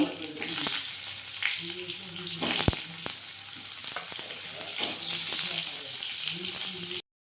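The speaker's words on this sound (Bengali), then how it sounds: "এরকম করে আমি সবগুলো ফুলকপি ভেজে নিয়ে উঠাবো" Cauliflower florets frying in a pan produce a loud, steady crackling sizzle up close, broken by a few utensil knocks against the pan, with a faint murmur of a voice underneath.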